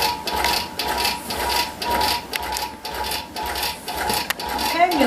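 A longarm quilting machine stitches in regulated single-stitch mode, giving a steady, close mechanical ticking and whirring with irregular clicks as the machine is moved along the quilt.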